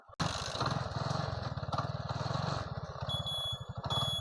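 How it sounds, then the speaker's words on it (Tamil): A TVS XL100 moped engine runs close by with a rapid, even putter throughout, its pulses briefly shifting pace midway, and a thin beeping tone enters near the end. "வண்டி ஓடிட்டுருக்கு"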